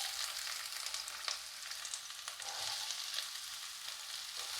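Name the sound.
chopped onions frying in hot oil in a pan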